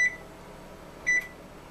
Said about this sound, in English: You need to preheat the oven to 375 degrees.